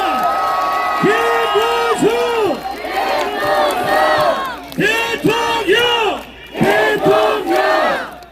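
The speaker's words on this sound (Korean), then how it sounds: "다시 한번 박수와 함성 부탁드리겠습니다." Large outdoor crowd at a presidential campaign rally at Daejeon Station's east plaza, shouting and chanting in loud, rhythmic bursts with cheering, one call repeated in waves, plus an amplified voice.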